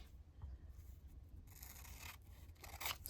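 Quiet, close-up snipping and rasping of scissors cutting through paper, a few cuts in quick succession over low background hum.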